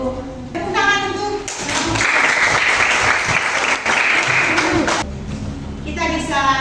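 An audience at an academic coaching and supervision session bursts into loud, sustained clapping for a few seconds, then it fades back toward quieter room sound with voices around it.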